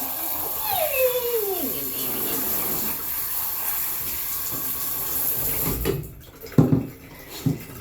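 A tap runs in a steady, close hiss of flowing water while a dog is bathed, and a voice speaks briefly over it. The flow cuts out near the end, leaving a few louder splashes and knocks.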